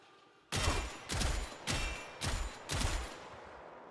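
A Gotva Prime rifle in the Warframe video game fires five punchy, evenly spaced blasts at a steady rhythm, each loud and close with a heavy low thump and a trailing crackle.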